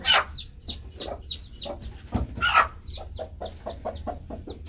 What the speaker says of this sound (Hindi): तो वापस मुर्गी को अंदर उठाएंगे।